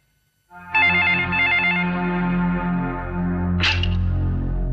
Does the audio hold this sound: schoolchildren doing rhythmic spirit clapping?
no